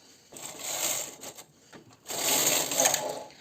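A knitting machine carriage sliding across the needle bed to knit rows, heard as two close, rasping mechanical passes separated by a short pause.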